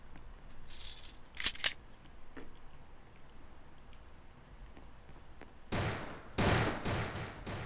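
Gunfire in a Roblox Call of Duty zombie survival game: a few sharp, short shots early on, quiet stretches, then louder bursts of firing near the end.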